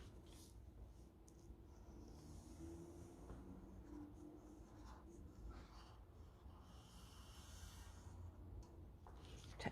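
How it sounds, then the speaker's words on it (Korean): A pencil draws owl wing shapes on folded colored paper, giving faint, continuous scratchy strokes with soft breathing nearby. "이런 식으로 날개를 그려주시면 돼요."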